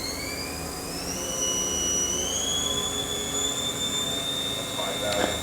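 A Haas VF-3B vertical machining center, a 2008 machine with a 20 horsepower two-speed gearbox and a new spindle, runs its spindle at 2,000 RPM with a steady mechanical drone and a clear whine that rises in pitch as it spins up.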